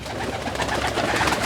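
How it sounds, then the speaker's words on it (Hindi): White pigeons kept on a rural multi-species farm coo in a dense, continuous flock murmur that sits close and steady, with no speech over it. "इसमें वाइट पिजन है, कबूतर हैं, कबूतर"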